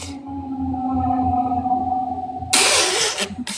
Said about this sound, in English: There's a dragon in my place.